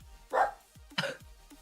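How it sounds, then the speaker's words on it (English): Two distinct barks from a dog, moderately faint and set a little apart, with brief quieter yips between them and no talking over them. "I'm just gonna have to let him bark and hope he shuts up."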